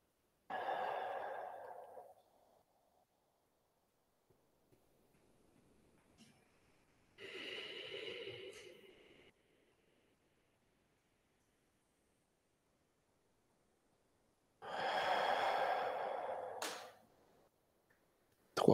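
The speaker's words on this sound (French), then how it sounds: "Trois respirations, c'est suffisant à chaque fois." Three slow, deep breaths taken during a guided animal-themed meditation with mudras, each a soft, close breathy swell lasting about two seconds, separated by quiet pauses, with no talking.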